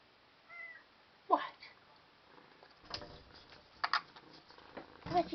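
A cat meowing nearby in short, separate calls with quiet gaps between them, mixed with a person's voice talking to it.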